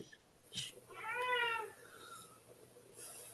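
A single cat meow, drawn out and moderately close, rises from a quiet room with faint background noise.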